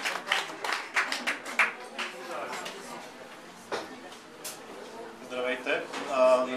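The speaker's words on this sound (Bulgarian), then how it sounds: "Аплодисменти, моля." A small audience at a literary reading gives scattered, fairly faint applause with irregular claps; talk follows near the end.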